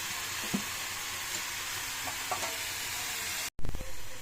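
Onion, capsicum and tomato frying in a pan, a steady broadband sizzle with a few soft stirring knocks and scrapes, then louder clatter and spoon strikes near the end as tomatoes go in.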